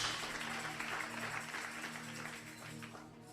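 A church congregation claps together in strong, continuous applause that fills the room, a dense wash of hands slowly easing off toward the end.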